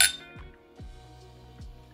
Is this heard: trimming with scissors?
no